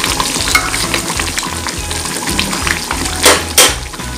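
Beef liver semur, a Betawi-style Indonesian stew, sizzles in a pan with salt just added while a utensil stirs it, giving a loud close crackle with rhythmic scraping strokes and a couple of louder clanks near the end.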